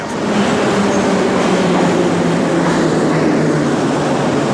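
Moscow metro subway train riding through a tunnel, a loud continuous rumbling roar with rail noise that holds steady throughout, no voices.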